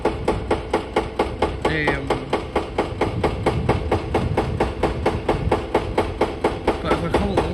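A hydraulic breaker on a 290 excavator pounds concrete during a shopping-centre demolition, a fast, steady train of loud hammering blows at a distance, with a voice talking over it.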